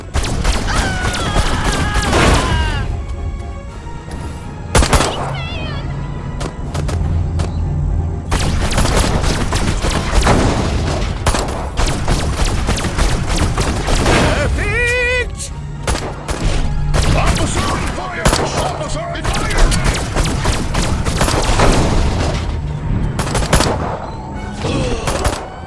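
A loud, continuous shootout in the Destroy All Humans! remake, with dense bursts of gunfire, heavy booms and thuds packed together over almost half a minute, with voices shouting over the battle.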